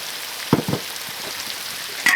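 Chili peppers dropped into a hot wok with pork slices, a brief sizzle and a couple of soft thumps as they land, followed by low steady frying, close by and without speech.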